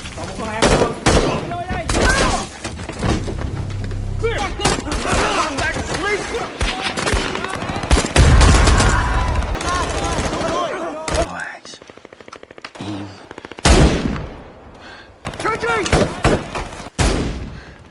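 Bursts of rapid gunfire and explosive shots from a film, loud and dense, with short pauses between volleys.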